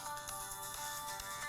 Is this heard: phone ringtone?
yes